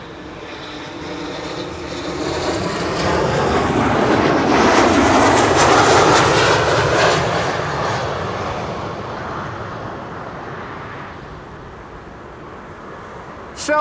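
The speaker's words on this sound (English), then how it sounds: "This is KLM flight 1710, arriving from Luxembourg." A KLM airliner arriving at Schiphol from Luxembourg swells from a distant hum to a loud roaring pass near the middle, then fades back to a low rumble, heard mostly alone.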